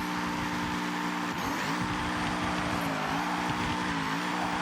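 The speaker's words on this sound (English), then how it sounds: "Loud car." A loud taxi-liveried car in Forza Horizon 6 revs and drives with a steady harmonic engine drone, pitch sliding up and down through gear changes with a hint of wheelspin, continuous throughout.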